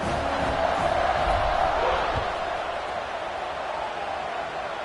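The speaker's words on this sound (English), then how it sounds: "this crowd now ready to get behind them" Football stadium crowd at Houston at Iowa roaring before kickoff, a steady dense wash of cheering and noise from a large crowd that holds loud throughout without pause.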